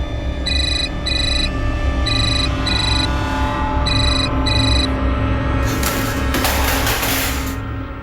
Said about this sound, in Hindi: अपने बाप के बदले संजय को फोन लगा रही हो